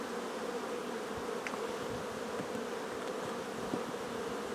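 Honeybees buzz steadily around a nucleus hive, a dense, continuous drone with no talk, interrupted by a few individual bees flying close by.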